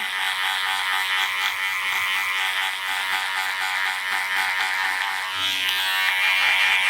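Electric hair clippers buzz steadily and close while cutting a skin fade down to zero on a long-haired client, one continuous high whine that shifts slightly in pitch near the end, with no speech.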